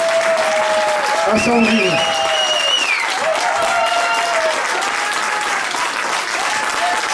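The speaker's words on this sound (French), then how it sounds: "Je vais vous demander de faire un tonnerre d'applaudissements" Loud crowd applause at a country music festival, a thick continuous roar of clapping with someone speaking over it through a PA and a brief whistle-like tone rising above it.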